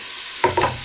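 Garlic ginger paste frying in a pot for chicken dhansak, a steady hiss underneath, then two short close scraping stirs in the last half second.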